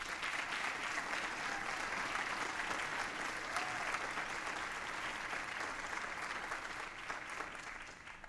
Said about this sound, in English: give this whole group another round of applause